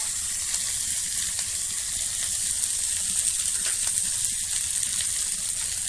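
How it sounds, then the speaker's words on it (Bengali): Warm water poured into a hot pan of potatoes for a banana blossom dish, giving a steady, close hissing sizzle and bubbling that holds evenly throughout. "নাড়াচাড়া করে আমি জল দিয়ে দেবো।"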